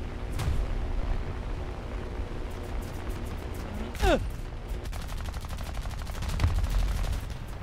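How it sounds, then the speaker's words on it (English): Aircraft cannon in the War Thunder combat flight game fires in rapid bursts, loud and close, with dense rattling volleys over a steady engine drone and a sweeping whoosh partway through. "I hit him with the cannon."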